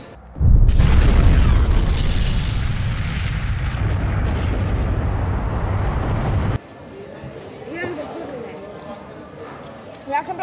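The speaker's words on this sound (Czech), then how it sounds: "chcete vidět výbuch?" A loud explosion bursts out with a deep booming roar that rumbles on for several seconds and then cuts off abruptly, leaving quieter background sounds and faint voices.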